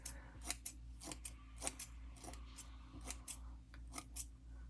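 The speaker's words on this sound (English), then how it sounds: "we're going to switch to these scissors and go on and finish cutting her hair" Scissors snip through the synthetic hair of a reborn doll in a steady series of about a dozen close, crisp metallic cuts, irregularly spaced over a faint background hum.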